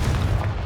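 A Confringo blasting spell from the Hogwarts Legacy video game detonates as a loud, deep boom with a rumbling low-end body that fills a short burst, heard alone without talk.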